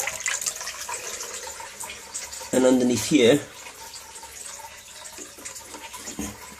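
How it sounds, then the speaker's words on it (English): Water runs from a hot water sink tap that is being fixed, a steady hiss heard under a voice, with a brief louder splash partway through. "So I've got the hot water tap on at the moment"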